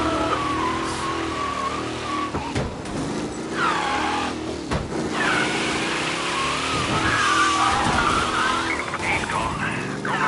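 Race car in Mafia Definitive Edition speeding past with repeated loud tire squeals and skids over a roaring engine, the screeches swelling and fading in bursts across the whole stretch.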